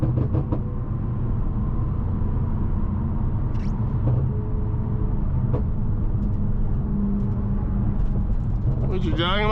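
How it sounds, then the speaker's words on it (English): Road traffic is heard from inside a 700+ hp G30 BMW M550i as a constant low rumble with occasional passing noises, with a person talking over it at times. "Traffic."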